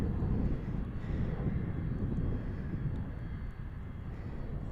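A Qantas airliner approaching at DFW International Airport gives a heavy, continuous low engine roar, loud and close, holding steady without any talk.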